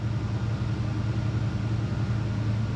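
A Ford F100 engine runs steadily with a low, even hum and rumble from its alternator, which makes an odd wonky noise under throttle, continuous and close with no talk.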